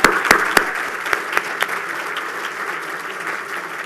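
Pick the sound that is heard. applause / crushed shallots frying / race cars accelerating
applause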